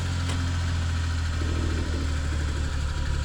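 A Suzuki Carry kei truck engine idles steadily while warming up, a close, even low hum with a slight rise and settle in pace partway through and no talk over it.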